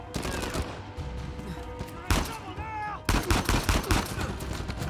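Gunfire in Uncharted 4 rings out in a rapid, heavy exchange, with bursts of shots, loud cracking impacts and a dense volley near the end, all close and forceful.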